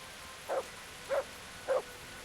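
A dog in the Kingdom Come: Deliverance video game gives three evenly spaced, short barks at a moderate distance, with quiet background between them.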